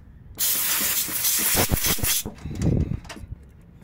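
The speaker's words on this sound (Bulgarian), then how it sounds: "Време е много бързичко да отвинтя мъркуче на манометъра." A sharp, loud burst of escaping air hisses as the gauge manifold hose is unscrewed from a split-system air conditioner's service valve, followed by a few clanks of metal fittings and a quieter second hiss before it fades.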